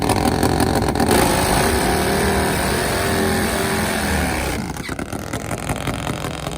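A Nitrous GS Pro Mod Suzuki and a Nitro Harley drag motorcycle roar at a drag strip, loud sustained engine blare that shifts pitch and then drops to a rougher rumble near the end.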